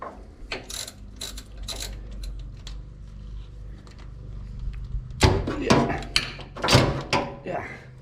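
Ratchet and socket clicking while spark plugs are removed from a hot-rodded 1946 Chevrolet truck, a run of close, sharp ratcheting bursts with louder clustered clicks toward the end and a low background hum.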